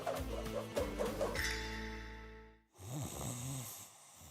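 Close, clear snoring in a mattress advertisement: a few rhythmic rasping snores, then a drawn-out tone and a last softer snort.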